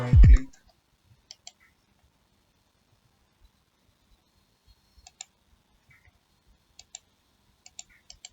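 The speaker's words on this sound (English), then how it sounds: "So trying to right click." A computer mouse gives scattered crisp, faint clicks, single and in quick pairs, spread across a quiet room after a brief spoken phrase at the start.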